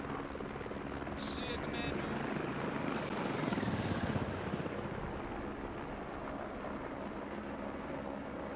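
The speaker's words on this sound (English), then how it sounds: "Oh, because you're moving the helicopter." Helicopter in the video game Squad, its rotor and turbine drone steady and close throughout, with a brief rising whine partway through and players talking over it.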